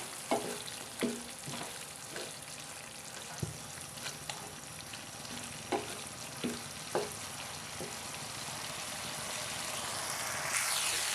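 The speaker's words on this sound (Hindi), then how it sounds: "टमाटर और हरी मिर्च को अच्छे से भून लेंगे" Tomatoes and green chilies with salt fry in a pan under a low, steady sizzle, while a spatula knocks against the pan in scattered, distinct taps.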